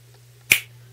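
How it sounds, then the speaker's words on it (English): A single sharp finger snap cracks out once, close and bright, over a quiet background with a faint steady hum. "And I'm going to snap my fingers."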